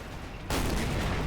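Artillery barrage in the WWII strategy game Men of War, set on the Eastern Front in 1944: a sudden burst of rumbling gunfire that jumps up halfway through and holds as a dense, continuous battle roar with no talking.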